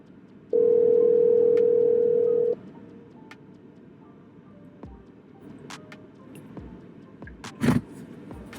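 A steady electronic ringback tone sounds for about two seconds, then stops, leaving quiet background with a few faint clicks and a brief noise near the end.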